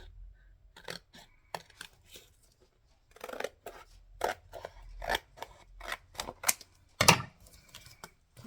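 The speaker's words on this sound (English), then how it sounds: "I think I might need to do some cutting a bit more for the signatures." Scissors snipping paper while trimming signatures for a handmade vintage Christmas journal, a run of close, crisp separate cuts with short pauses between them, loudest near the end, no talking.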